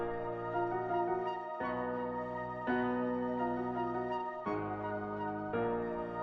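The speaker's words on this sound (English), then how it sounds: "I have a choir, which would be just like a synth or a pad. I have a piano sound and a flute." A choir pad, piano and flute play a beat together, with sustained chords that change every second or so. The mix is smooth and layered, moderately loud, and no one speaks.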